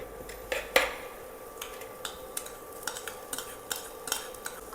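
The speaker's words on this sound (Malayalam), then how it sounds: "ഇത് നല്ലോണം മിക്സ് ആവുന്നതിന് നമുക്ക് ജസ്റ്റ് ഒന്ന് ഇളക്കി കൊടുക്കണം" Egg rice is stirred in a pan over a low flame, giving quiet, repeated scraping and tapping strokes of a spoon against the pan with a soft sizzle beneath.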